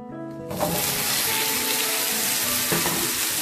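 Apples dropped into hot caramel in a pan burst into a loud, steady sizzle after a brief quieter moment, with a faint stirring scrape partway through, close and continuous with no talking.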